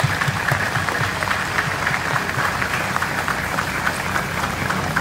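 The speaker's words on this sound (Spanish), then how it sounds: "un fuerte aplauso para San Francisco" Applause for a statue of Saint Francis at a patron saint festival mass in Cherán, a dense, steady clatter of many hands clapping in a large crowd that holds at an even level for several seconds.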